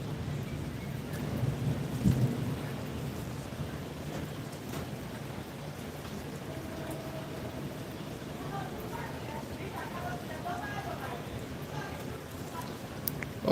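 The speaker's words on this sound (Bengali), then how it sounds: "দারুণ বৃষ্টি বিদ্যুৎ চমকাচ্ছে" An evening thunderstorm over Dhaka with heavy rain hissing steadily, a low thunder rumble early on, and a person talking indoors over the downpour.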